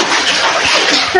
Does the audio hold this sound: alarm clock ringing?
no